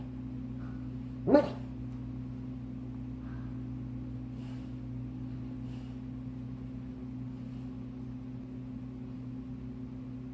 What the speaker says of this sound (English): My dog is sleeping on the couch and he is dreaming.